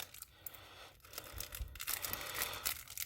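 A foil-like wrapper on a Yu-Gi-Oh Speed Duel starter deck card pack is torn open up close, with crinkly ripping that grows rougher and fuller toward the end, quiet and without speech.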